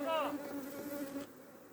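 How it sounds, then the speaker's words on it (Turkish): Bees around beehives on an April day in Adana, agitated after nearby olive spraying, make a close, loud, continuous buzz with a droning hum as individual insects pass near. "Evet arılar bayağı bir sardı beni."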